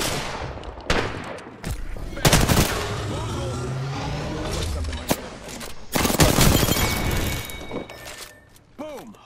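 Apex Legends gunfire in a firefight, with repeated sharp shots and bursts of automatic fire at varying distances, some loud and close, amid clatter and game effects, with a voice talking over parts of it.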